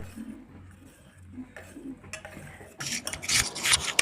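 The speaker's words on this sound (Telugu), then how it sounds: "మిల్క్ పౌడరు కార్న్ ఫ్లోర్ వేసిన మిల్క్ని ఈ మనకు కాగుతున్న మిల్క్లో వేసుకోవాలి వేసి బాగా మిక్స్ చేసుకోవాలి" Milk with corn flour and milk powder being stirred in a pot for homemade ice cream, with soft scraping at first, then louder, steady metallic rubbing and clinking of a spoon against the pan in the final second.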